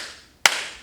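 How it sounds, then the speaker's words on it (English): A single sharp hand clap rings out sharply and close after a quiet room tone, followed by a brief decaying tail, with no voices in the clip. "They clap twice,"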